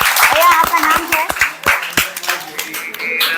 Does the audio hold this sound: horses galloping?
no